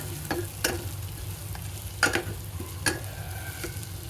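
Fried dried fish (sode) being stirred into hot oil in a pan, a steady soft sizzle broken by several sharp scrapes and clacks of the spoon against the vessel, with no talking.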